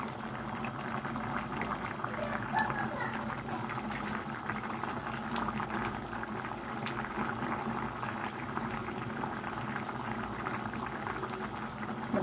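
Tomato sauce with mussels simmers for spaghetti, bubbling and popping in a continuous, even stream of small bursts that stays close and moderately loud throughout.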